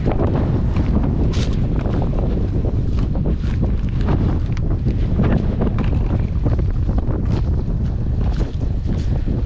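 Strong wind buffeting the microphone in a sunflower field, a steady loud rumble with gusty bursts throughout, and no voices.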